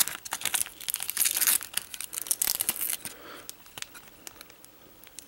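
Transparency film being torn and peeled off a photoresist-coated circuit board, a dense run of crinkly ripping and crackling that is close and fairly loud at first, then thins to scattered soft crackles.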